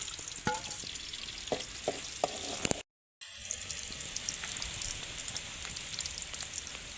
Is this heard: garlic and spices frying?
yes